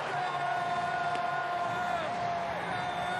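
A sellout baseball crowd at Petco Park in San Diego, during a Padres home game against the Reds, fills the air with a steady, dense roar of cheering and chatter, with a long whistle-like tone above.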